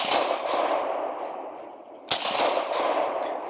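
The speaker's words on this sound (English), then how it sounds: "Let's get some side shots of the gun going off." A Beretta 96A1 pistol fires a single sharp, close report partway through, amid a constant loud roar of outdoor noise.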